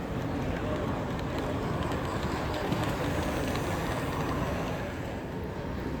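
A model DMU train running on a model railway display layout, giving a steady close rolling rumble with a faint rhythmic clatter and continuous background murmur.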